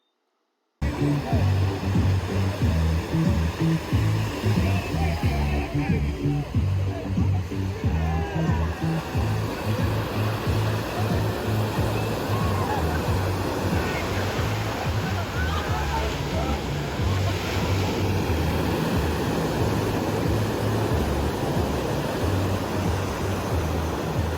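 Big ocean waves surge and roar steadily on a Costa Rica beach in the early morning, a loud, continuous broadband wash of surf with no pauses.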